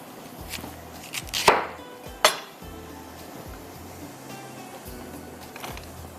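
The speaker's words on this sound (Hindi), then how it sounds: "इसकी साथ में बंद गोभी को भी कटिंग कर लेते हैं" Knife chopping cabbage on a board with a few sharp clicks and clinks of utensils and dishes, two louder strikes standing out over a low kitchen background.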